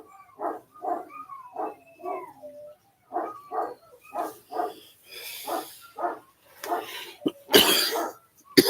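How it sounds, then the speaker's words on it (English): A dog barks at a squirrel in a run of short, sharp barks, fairly close and loud. Brief pauses split the barking into bursts, and it ends in louder, noisier yelps. "Having all that freaking barking and crap over a squirrel."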